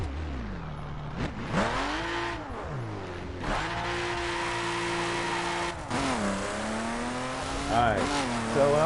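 Brief tire squeals from a 2011 BMW Z4 street edition with twin turbos, rising over a loud engine rev that climbs and falls repeatedly, with someone talking throughout.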